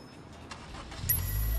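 A van engine starts in the Sleeping Dogs video game: faint clicks and a soft whir, then a low rumble swells and settles into a steady idle near the end.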